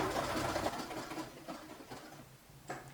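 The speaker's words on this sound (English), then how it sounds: "and then I'm going to stitch down the other side here." A sewing machine zigzag stitching down one side of a buttonhole at 2 mm stitch width, a steady close mechanical whir that fades toward the end with a brief burst near the finish, and no talking.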